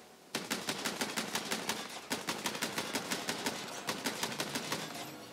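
Rapid automatic gunfire from Borderlands 3 gameplay, a close, even burst of sharp shots lasting several seconds after a sudden start.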